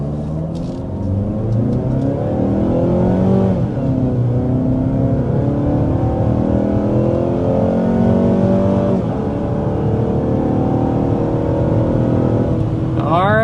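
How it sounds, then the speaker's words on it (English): A 2026 Mazda CX-5 with a 2.5-liter turbocharged engine pulls hard to 60 mph, its engine note rising steadily through gear changes, loud and close for the whole run. "that was our acceleration to 60 miles per hour with the 2026 CX-5"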